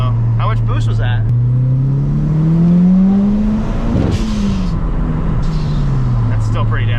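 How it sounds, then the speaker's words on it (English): Mitsubishi Evo III pulling hard through second gear, its engine note rising steadily in pitch as it accelerates, then easing off and dropping back, loud and close inside the car with talk over the top. "I still got to do a second gear pull though"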